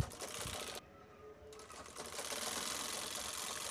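Sewing machine stitching the corner seam of a cloth bag made from saree borders, a steady close whirring run that pauses briefly and then resumes.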